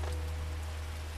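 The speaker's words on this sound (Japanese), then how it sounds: "あの音がね、雨ひどなってきてるんですよ。" Heavy rain drums steadily on a campsite, a dense, unbroken hiss of drops on surfaces with a low steady hum beneath, close and constant with no voices.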